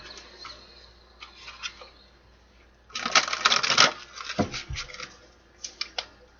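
A deck of tarot cards is shuffled close by: faint flicks and taps, then a loud, crisp riffle of cards lasting about a second, followed by a few lighter snaps as the deck settles.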